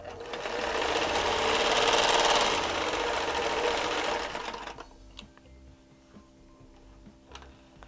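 Vintage Singer 185J sewing machine stitching a mug rug, a fast steady mechanical whir and chatter for about four seconds that then stops, leaving quiet small clicks.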